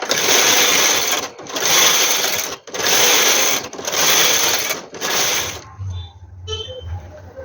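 A knitting machine knitting rows of a baby romper, with the carriage sweeping back and forth in long, loud mechanical passes separated by brief pauses, followed by quieter clicks and handling at the end.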